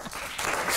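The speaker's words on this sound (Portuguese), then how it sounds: "Um grande aplauso para o nosso mágico residente, Daniel." An audience applauds a resident magician on a Porto Canal TV show, a short dense burst of clapping that swells slightly louder toward the end.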